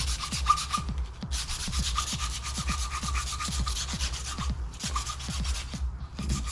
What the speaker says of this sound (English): I am filing down, per the instructions, it says you can file down the inside of these grips to remove any mold